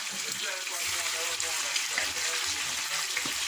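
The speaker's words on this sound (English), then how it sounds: "So, I fry up some chicken" Chicken frying in a pan, a steady broadband sizzling hiss throughout with faint, indistinct voices in the background.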